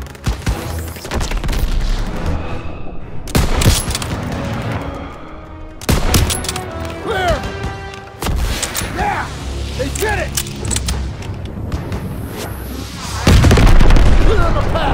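Gunfire and explosions from the World War II shooter Call of Duty WWII: loud booms and bursts of shots in dense succession, with shouted in-game voices over the combat and a heavy blast near the end.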